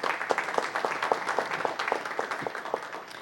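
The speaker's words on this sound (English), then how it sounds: "Please give him a round of applause as well." Applause at a council meeting: a small group clapping steadily for about three seconds, individual claps fairly distinct and moderately close, with no talking over it.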